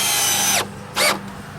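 A power drill drives screws into pool deck boards, running loud and steady, then winding down, followed by a short second burst as the next screw goes in.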